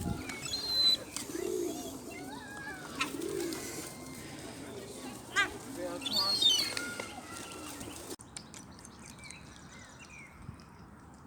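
Pigeons and seagulls crowd around during feeding in Stanley Park, soft cooing and scattered chirps nearby over outdoor ambience, with occasional wing flutters, before the sound abruptly quiets near the end.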